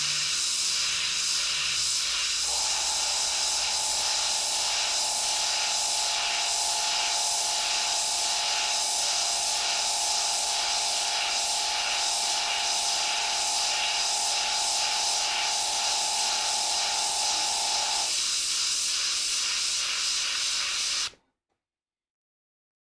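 Airbrush spraying paint onto the eyes of a latex mask, a steady loud hiss with a faint tonal whine running for about twenty seconds before cutting off abruptly.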